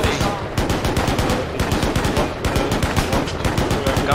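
Rapid, continuous machine-gun fire in a tank warfare video game, dense repeating bursts loud and close throughout, with voices talking faintly underneath.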